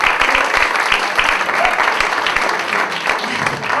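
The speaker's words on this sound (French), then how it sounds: "J'aimerais qu'on l'applaudisse très très fort." Warm audience applause for a singer at a music performance, full and sustained clapping from a crowd with a few sharper individual claps standing out, loud and continuous with no pause.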